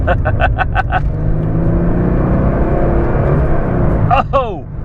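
Chrysler Crossfire with a freshly repaired transmission accelerating on the road, engine note rising steadily through gear changes at close range, with a voice calling out briefly near the start and end.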